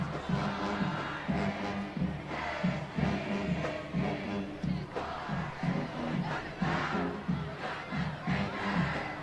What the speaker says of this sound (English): The Clements band is saying it's all about the Rangers instead of Cougars, and they spell out Rangers.